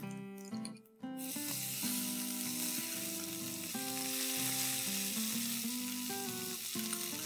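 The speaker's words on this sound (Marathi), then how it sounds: "तेल आपलं गरम झालंय, मी त्यामध्ये मोहरी टाकून घेते।" Mustard seeds and cumin sizzling in hot oil for a ridge gourd curry, a continuous close crackling hiss that runs throughout beneath background music.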